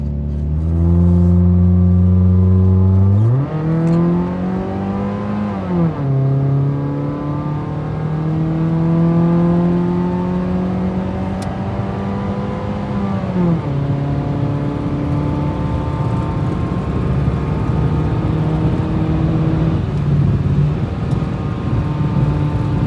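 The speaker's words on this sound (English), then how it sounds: "We're just gonna take it for a little test drive now." Truck on a test drive after repairs, its engine rising through gear changes with clear harmonic whine as it accelerates, then cruising with steady drone and road rumble, heard from inside without speech.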